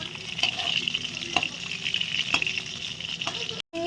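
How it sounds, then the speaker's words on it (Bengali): Chicken pieces for butter garlic chicken frying in a pan, a close sizzle with repeated stirring scrapes and clinks, ending in a brief cut to silence. "দেখুন হালকা ভাজা ভাজা হয়ে এসছে, আমরা কিন্তু এবার উল্টে দেবো"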